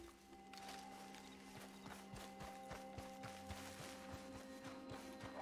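A horse walks with steady, even clip-clop hoofbeats in Red Dead Redemption Online on Xbox Series S, close and clear over a faint game ambience.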